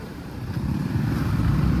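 Vehicles passing on a narrow hill road, a low engine rumble that swells gradually as traffic draws nearer, continuous and without talk.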